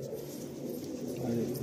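Pigeons in a breeder's loft coo in a soft, low murmur, faint and steady, under a low background hum.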